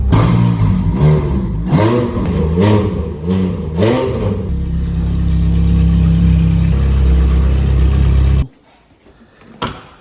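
A manual Ferrari's engine is blipped through several sharp, rising revs, then holds a steady loud drone before cutting off abruptly, leaving near silence with one brief later noise.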